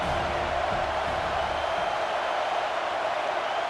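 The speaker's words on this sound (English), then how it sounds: "3rd down and the crowd really getting into it." A football stadium crowd on third down during a playoff game produces a steady, distant wash of cheering and roaring, continuous and even throughout.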